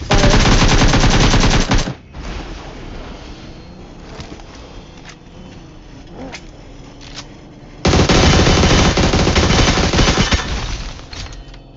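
Loud automatic gunfire from the PUBG Mobile battle game, with a long sustained burst, a stretch of scattered quieter shots, then another heavy burst near the end, close and without talk.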